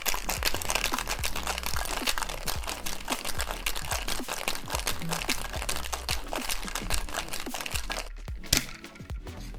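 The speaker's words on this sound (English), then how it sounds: "And shake the cocktail for about 10 to 12 seconds." Ice cubes rattle and crunch inside a cocktail shaker as a Tokyo Iced Tea is shaken hard, a loud, continuous rapid rhythm close by that stops abruptly near the end.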